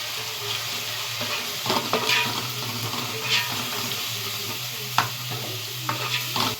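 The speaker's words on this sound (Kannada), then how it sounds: "ಇದು ಮಟನ್ ಹಾಕಿ ಚೆನ್ನಾಗಿ ಫ್ರೈ ಮಾಡ್ಕೋಬೇಕು." Cooked mutton head pieces fry in a pan with turmeric, chili powder, coriander powder and dill leaves, a steady close sizzle under repeated stirring scrapes and clinks of a spoon against the pan.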